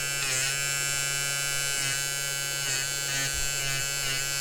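A Peggy Stitch Eraser buzzes steadily as it shaves away appliqué stitches and fuzz on a towel, a close, continuous electric hum with slight pulsing where the blade drags across the terry fabric.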